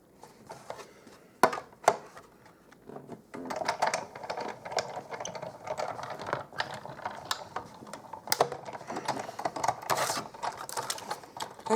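Scissors cutting a stitched circle shape out of card stock, a close run of small crisp snips and paper rustles in an uneven rhythm, with a couple of sharper clicks near the start.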